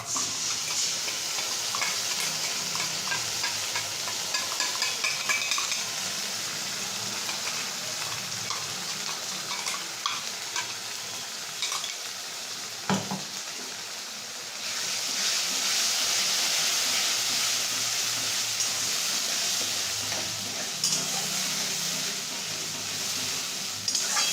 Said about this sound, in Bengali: সেটা মা এবার পেঁয়াজ ভাজা হয়ে এসছে তার মধ্যে অ্যাড করে দেবে